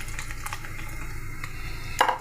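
Rasam seasoned with asafoetida boils in a pot with a continuous close bubbling and hiss, and a brief metallic clink near the end.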